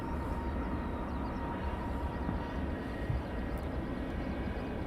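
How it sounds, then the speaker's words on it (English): An airliner at Luton Airport spooling its engines up for takeoff, a dense, steady roar with a faint whine, distant but loud and constant, with no voices over it. "The engine's spooling up."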